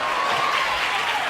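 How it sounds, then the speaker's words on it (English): A WWE 2K25 video game arena crowd roars and applauds in a dense, sustained wash of cheering, loud and unbroken for a brief moment. "This crowd is on fire"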